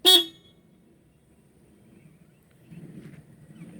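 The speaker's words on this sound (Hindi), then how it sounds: "और इधर आपको नीचे हॉर्न मिलेगा।" A single short, loud honk from a motorcycle horn, followed by near silence and then a low rumbling murmur of background noise.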